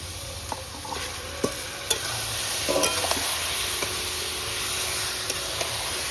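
Duck meat frying in a spice masala with turmeric and salt, a constant hissing sizzle with occasional sharp knocks and scrapes of stirring.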